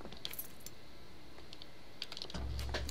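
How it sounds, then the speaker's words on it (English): Typewriter being typed on in the video game Bioshock Infinite, a series of irregular crisp key clacks scattered across a quiet background, ending with a low thudding sound. "Try the typewriter."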